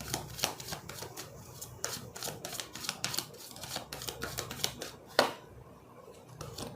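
Tarot cards are shuffled and handled close by in quick, papery riffles and flicks. The dense bursts of snaps and slaps come one after another, with one sharper slap toward the end, and no talk.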